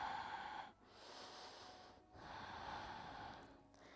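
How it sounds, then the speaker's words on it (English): Ujjayi breathing with the back of the throat tightened, a steady ocean-like rasp on each long inhale and exhale, with two short pauses between breaths, close and soft. "See if you can find that ujjayi breath by tightening the back of the throat."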